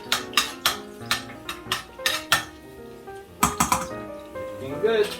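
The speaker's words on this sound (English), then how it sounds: "Stir a little bit." Penne a la vodka sauce stirred in a pot with garlic in hot oil, a spoon knocking against the metal in a quick series of loud, close clanks with a short pause midway.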